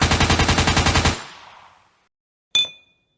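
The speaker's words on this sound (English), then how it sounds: "The sound of gunfire erupts." A rapid burst of about fourteen evenly spaced machine-gun shots, loud and punchy, ends abruptly and the echo dies away. A single sharp ringing shot or metallic clink follows after a short silence.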